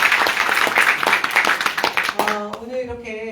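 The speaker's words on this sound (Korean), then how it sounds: "다시 한번 큰 박수 부탁드립니다." Dense crowd applause fills a political gathering of South Korea's Democratic Party in Michuhol, loud and close for about two seconds, then cuts off as a sustained tonal voice or music takes over.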